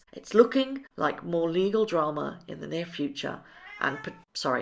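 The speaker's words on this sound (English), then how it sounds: "that was my cat saying hello" A pet cat meows several times indoors, close and fairly loud: a few drawn-out, wavering calls, some overlapping a person's speech.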